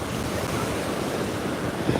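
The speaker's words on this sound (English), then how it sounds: "They're like 4-foot waves, especially for the kid." Waves of about four feet rolling in at Coney Island beach: a steady, full wash of surf and wind noise, close and loud throughout.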